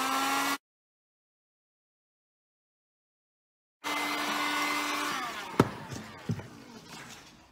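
A heat gun blows hot air onto WoodUbend moulding on a drawer, a steady close whooshing hum that cuts out briefly and then resumes, with a few sharp knocks and taps near the end.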